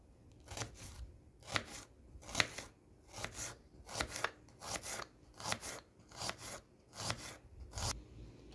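A knife slices an onion thinly on a cutting board, giving quiet, crisp crunching cuts in a steady rhythm, roughly a dozen closely spaced strokes, some in quick pairs, with no talk.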